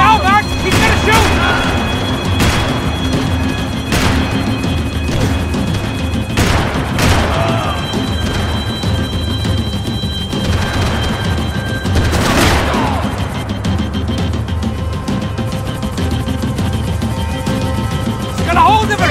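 Gunfire in the video game Max Payne 3: a few sharp bursts and crashing impacts spaced across a loud, dense game soundtrack, with excited talking over the action.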